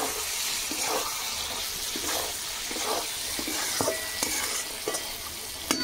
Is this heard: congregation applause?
no